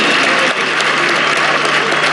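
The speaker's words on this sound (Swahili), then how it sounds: "Makofi kwa watoto wetu, makofi." Loud, dense applause from a large crowd at an outdoor Madaraka Day celebration in Kenya, honouring children, fills the clip as a steady continuous roar of clapping with no gaps.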